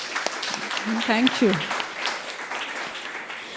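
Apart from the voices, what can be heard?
audience applause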